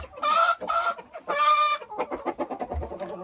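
A laying hen in an unheated henhouse clucks and squawks loudly nearby in drawn-out calls, then breaks into a quick run of short, rhythmic clucks.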